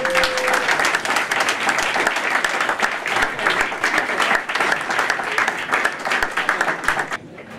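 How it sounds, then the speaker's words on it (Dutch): Sustained applause from an indoor audience at a royal honours ceremony for futsal club members, dense and even clapping of many hands continuing for several seconds before tapering off near the end. "Een heel groot applaus."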